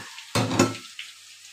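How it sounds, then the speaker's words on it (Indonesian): Mixed fish pieces frying in a pan of hot oil, with a loud sizzling burst as food is stirred or turned, fading to a quieter steady crackle. "Lagi kita goreng."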